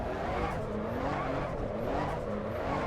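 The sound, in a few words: race car drifting with tire squeal in Assetto Corsa EVO video game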